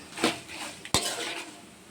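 Poha being stirred in a pan over a low flame, with soft scraping and a sharp metallic clink of the spoon against the pan near the middle, close and fairly quiet, no talking.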